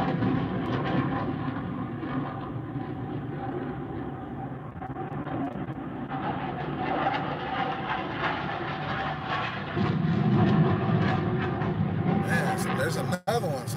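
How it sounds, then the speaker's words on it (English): Military jets passing overhead produce a sustained, broad roar that rises and falls gradually for the whole stretch, swelling louder near the end, with no clear voices. "There's a lot of military jets flying today"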